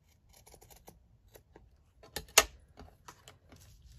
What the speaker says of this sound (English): just snip this out at the side